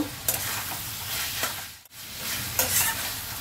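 Mutton keema with tomato being stir-fried in a wok: continuous close sizzling and frying with scraping stirs of a spoon, loud and steady, with a brief dip midway.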